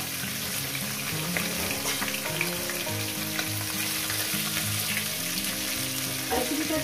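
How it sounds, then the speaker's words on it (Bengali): Fish heads frying in hot oil give a steady, dense sizzle that runs the whole time at close range, with faint stirring and clinks of a utensil near the end. "মাছের মাথাগুলো আমার ভাজা হয়ে গেছে। এবার আস্তে করে তুলে দেবো।"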